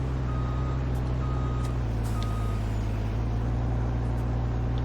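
A truck in Farming Simulator 19 reverses with evenly spaced electronic backup beeps over a loud, steady low diesel engine drone, continuous and close.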